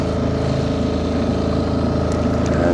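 A boat engine drones steadily at speed off Coronado in San Diego Bay, a loud, continuous low rumble with a rhythmic throb and water rush that never lets up.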